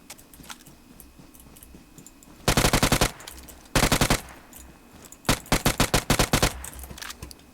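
Machine gun fire in PUBG Mobile rattles out in three loud, rapid bursts of closely spaced shots, each lasting under a second, with quiet gaps between and no talk over them.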